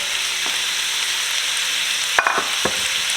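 Diced potatoes go into a pot of Mexican meatball soup with meatballs, sizzling with a steady hiss and broken by a few sharp scraping clatters of stirring near the end.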